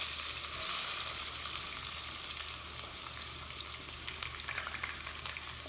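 Four onions frying in plenty of hot oil for stuffed cabbage, a dense, steady sizzle with crackling spatters, moderately close and alone with no talk.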